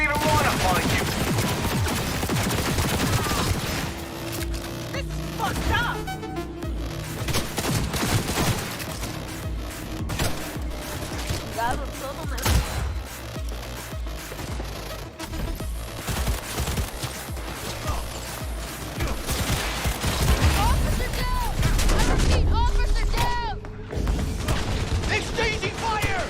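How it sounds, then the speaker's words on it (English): Video game firefight with bursts of rapid gunfire and mechanical clacks scattered across a busy, dense mix, with a voice speaking at times. "Exchanging fire!"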